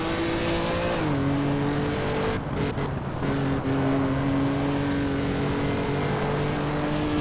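A 1950s six-cylinder F1 race car engine in Assetto Corsa drones loudly and steadily, dipping briefly in pitch as the car shifts and then holding a sustained high-revving whine with no talk.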